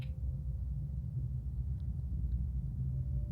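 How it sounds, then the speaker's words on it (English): Low, steady rumble of an incoming storm in No Man's Sky on Switch 2, a continuous deep roar that holds at an even level throughout with a faint tonal hum above it and no voices. "Incoming storm."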